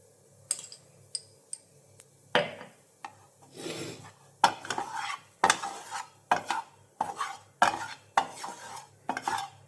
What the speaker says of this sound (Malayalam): കുരുമുളക് പൊടി ജസ്റ്റ് ഒന്ന് സോട്ട് ചെയ്യാൻ മതി.